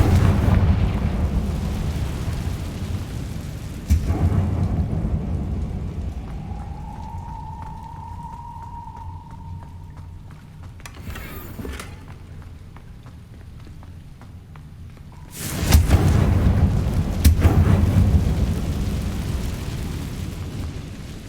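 Confringo blasting spells from the game Hogwarts Legacy, heard as loud rumbling explosive bursts with crackling debris, one near the start and a heavier blast later, over a constant roaring background of rain-like noise.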